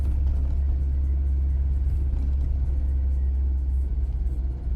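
Interior engine drone of a Tofaş Şahin car cruising in third gear, a steady low rumble with road noise and slight throttle variation near the end, no talking.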